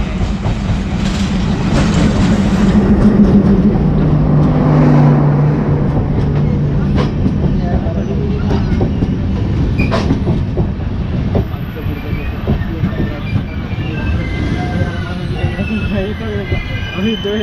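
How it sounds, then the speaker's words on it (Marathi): Diva-bound passenger train pulling out of Mangaon station on the Konkan line, a steady rumble and clatter of wheels on rails running throughout, with a low horn-like tone early on and voices talking nearby. "अशा प्रकारे दिवा गाडी सुटली आता माणगाव स्टेशनवरून."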